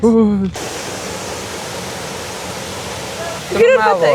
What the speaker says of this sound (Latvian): Mēs esam ūdenskritumam no augšas.